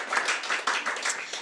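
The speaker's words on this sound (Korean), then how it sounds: "큰 박수 부탁드립니다" An audience claps for a presenter at a talk on artificial intelligence education, a brief burst of many hands applauding together, dense and even, with no voices over it.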